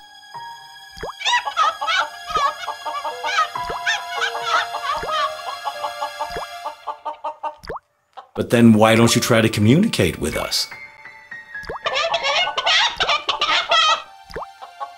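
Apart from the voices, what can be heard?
rooster clucking in video game Journey To The Center Of The Moon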